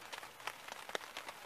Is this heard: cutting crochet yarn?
no